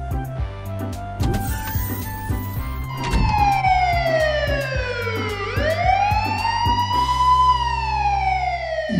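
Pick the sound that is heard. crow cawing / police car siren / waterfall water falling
police car siren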